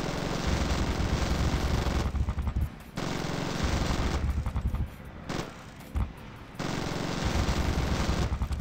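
Sustained heavy gunship cannon fire roars in long loud bursts in Zombie Gunship Survival, broken by short pauses before the barrage resumes, with no voices.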